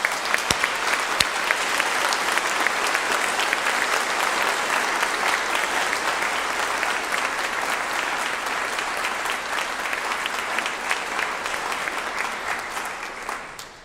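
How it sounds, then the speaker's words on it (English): Applause from a congregation at an Erev Rosh Hashanah service, a dense, steady clapping from a full room that holds for about fourteen seconds with no talk over it. "show our appreciation for the people of St. Matthew's with our applause"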